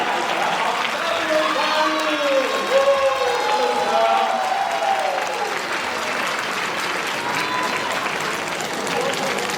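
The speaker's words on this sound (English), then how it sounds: "you can help me give a round of applause to Mr. Kebun Baru" Evening event audience applauding a guest speaker as he comes up, continuous moderate clapping from a crowd with voices and chatter layered throughout.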